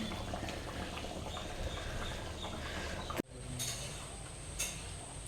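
Egg curry simmers in a pot on a home stove, giving a steady, dense bubbling hiss that cuts out briefly midway and then resumes, with no one talking.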